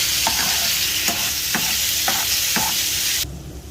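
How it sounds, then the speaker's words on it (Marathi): Chicken pieces stir-fried in a hot pan for black pepper chicken give a loud, steady sizzle with a regular series of about five spatula scrapes, then the frying drops away and turns muffled at the end. "चांगलं परतवून घ्यायचं त्याला"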